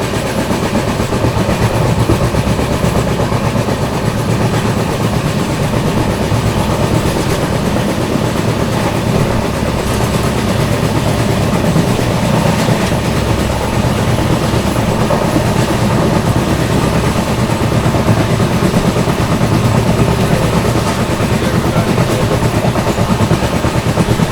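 The 22412 Arunachal AC Superfast train runs past in heavy monsoon rain, a loud, continuous roar of wheels and rail noise mixed with rain that holds steady for the full duration without any speech.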